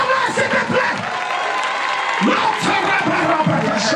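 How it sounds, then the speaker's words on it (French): A church congregation cheering and acclaiming the Holy Spirit, a loud crowd of whoops, shouts and clapping with a voice calling out above the noise. "Acclame le Saint-Esprit, s'il vous plaît."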